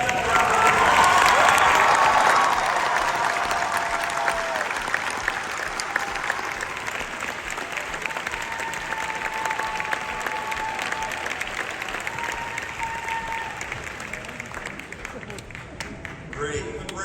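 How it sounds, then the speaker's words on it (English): Large crowd applauding faculty and staff at a UMBC graduation ceremony, a long sustained roar of clapping, loudest at the start then continuing steadily, with a voice and tonal sounds over it. "all the UMBC faculty and staff, please stand, give them a round of applause"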